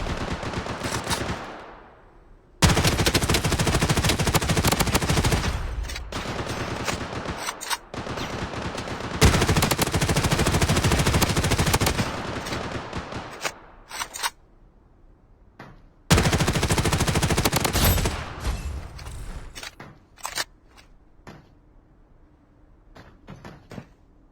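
Loud bursts of automatic gunfire in the battle royale video game Blood Strike come in several long volleys separated by short pauses and quieter stretches.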